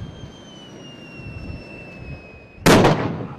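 A sudden loud explosion bursts near the end during army convoy training in a desert with a simulated village, following a steady high whine and low rumble, then a rolling decay.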